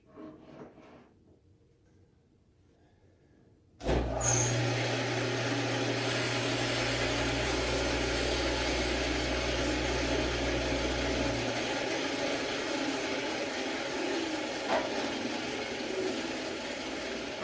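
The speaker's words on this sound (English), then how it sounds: "now I'm going to go ahead on my bandsaw and make a bunch of little cuts close to the edge" After a near-silent start, a bandsaw switches on abruptly and runs with a steady, close motor whir and blade hiss while making a series of small relief cuts near the edge of a wooden inlay piece, easing slightly toward the end.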